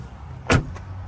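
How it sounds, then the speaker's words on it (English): A car door closes once with a single dull thump heard close up, and the cabin quiet stays in the background afterwards. "And then you would just close the door."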